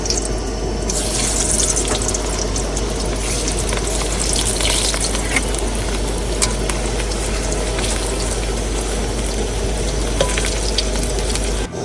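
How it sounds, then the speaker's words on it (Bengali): Potatoes frying in hot oil on a riverside outing, a loud, steady dense sizzle with constant crackle running unbroken throughout, no talking. "সুন্দর করে তেল গরম হয়েছে, আলুগুলো ভেজে নেবো।"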